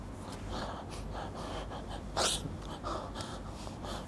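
A voice imitates the gasping, strained breathing of someone short of breath, heard as a sharp close gasp amid soft breathy noise.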